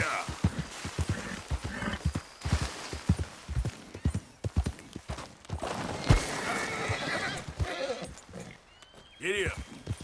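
In the video game Red Dead Redemption 2, a horse gallops with rapid, loud clip-clop hoofbeats, and snorts and whinnies are heard as well. A shrill neigh comes near the end, and speech is heard over parts of the sound.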